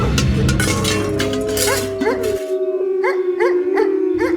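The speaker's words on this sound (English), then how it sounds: "there is dogs absolutely everywhere" Dogs barking and howling in a canal-side neighborhood of Bangkok, a sustained howl with repeated yelps and barks, loud and close, over wind or background noise.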